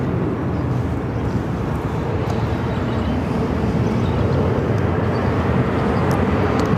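An airliner takes off from runway 25 right at Phoenix airport, a loud, steady broadband jet roar held throughout with no talk over it.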